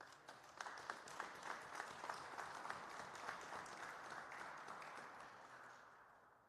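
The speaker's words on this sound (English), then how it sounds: "Let's give this brother a round of applause." Applause from a crowd at a Minneapolis gathering demanding justice for Amir Locke, a sustained wash of clapping with a few sharp claps standing out, fading toward the end; faint and fairly distant.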